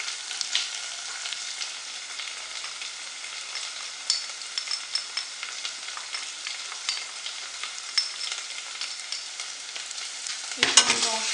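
Spices frying in a pan for Turkish lentil soup, a bright, steady close sizzle with scattered crackles and light stirring clicks, ending in a brief scrape, no voices.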